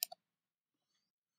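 Two quick, crisp computer mouse clicks in fast succession at the very start, close and clear, then near silence with only a faint trace of background sound.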